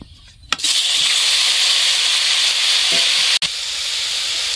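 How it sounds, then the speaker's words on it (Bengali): Orange segments hit hot fried semolina in a kadai with a sudden loud sizzle that settles into a steady, close frying hiss, briefly cut off once before resuming. "এবার কমলা লেবুর কোয়াগুলো কড়াইয়ে দিয়ে দিব।"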